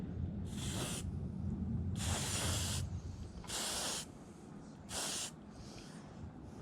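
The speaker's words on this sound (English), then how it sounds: "now we're gonna just give these a quick spray." Four short bursts of spray paint hiss from a can onto car windscreen wiper arms, each lasting about a second, separated by quiet pauses.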